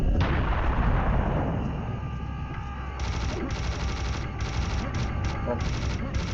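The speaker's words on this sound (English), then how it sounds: "Once he says that, fire the cannon," A heavy cannon in Serious Sam: The First Encounter, level Karnak, booms loudly and rumbles off, followed by bursts of rapid gunfire and explosive impacts over a low sustained roar.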